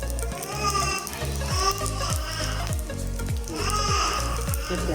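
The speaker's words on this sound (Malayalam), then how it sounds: "ഇതിലേക്ക് തേങ്ങാക്കൊത്ത് ഇട്ടെടുക്കുകയാണ്. നല്ലോണം ഒന്ന് വറുത്ത് കൊടുക്കുക" Coconut pieces frying in hot oil in a pan for Vishu payasam, a steady crackling sizzle with periodic scraping stirs, close and continuous.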